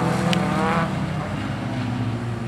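Folkrace cars racing on a dirt track at a junior heat in Falköping, engines droning and revving steadily at moderate distance, with a commentator's voice faintly mixed in.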